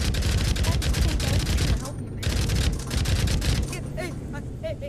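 Gunfire in the PavZ VR game rings out as a rapid string of loud, close shots that pause briefly and then resume, with voices mixed in among the blasts.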